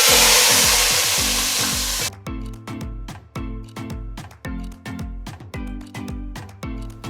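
Tadka for dhaba-style maash (urad) lentil daal sizzles loudly in hot oil for about two seconds, then gives way to rhythmic, tonal clattering pulses.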